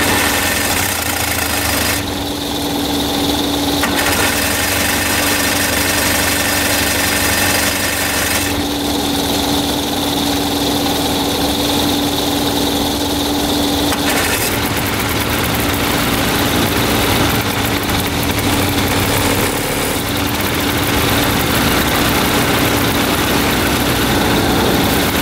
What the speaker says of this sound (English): Got both engines running.